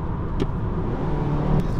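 A Mazda CX-3, a small-bodied crossover with a 2000cc engine, is driving. Its engine and road noise form a steady, continuous drone with no speech.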